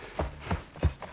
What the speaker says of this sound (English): Ellie's footstep makes it sound like this someone behind me or near me or something.